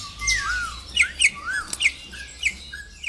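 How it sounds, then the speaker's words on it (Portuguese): A captive troupial (currupião) in an aviary sings clear whistled phrases and sharp chirps, repeated at a lively uneven pace, close and prominent over a faint low background. "Mas o currupião canta e se exibe como um campeão do viveiro."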